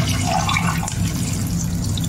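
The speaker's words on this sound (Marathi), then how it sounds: "पाणी घालते।" Water pours in a continuous stream into a pot holding two tomatoes, a close, steady splashing and gurgling that fills the moment without any speech.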